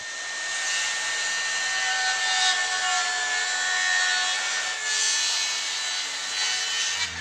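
DEWALT FLEXVOLT power saw cutting wood for a lawn chair leg, a loud continuous rasping whine that holds steady for about seven seconds with slight swells, heard alone without talk.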